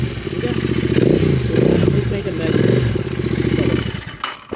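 A modified Royal Enfield GT 650 motorcycle with an aftermarket exhaust rumbles loudly and steadily up close, its deep thumping idle swelling slightly before cutting off near the end, with talk mixed underneath.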